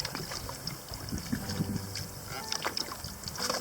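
A canoe is paddled across a quiet Boundary Waters lake in fall, with soft water swishes and splashes from the paddle strokes over light wind buffeting, close and fairly quiet.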